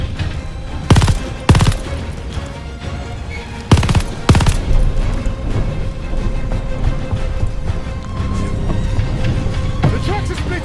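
Machine-gun fire aimed at a vehicle driver during an April 1945 Call of Duty Vanguard campaign mission, loud bursts of rapid shots in two clusters over a constant rumbling engine and battle din, with shouting voices mixed in.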